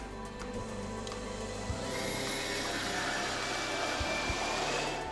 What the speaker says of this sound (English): The aqueous phase is prepared using a Silverson mixer.